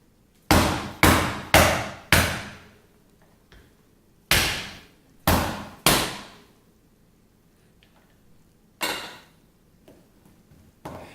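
A hammer cracking a Maine lobster shell with about eight sharp, close, loud blows in quick groups, each cutting off with a short decay into quiet.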